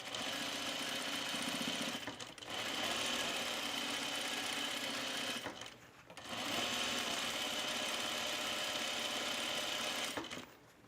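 A sewing machine runs steady stay or easing stitches on a halter top seam, a close, even whirring hum in three long bursts separated by short pauses.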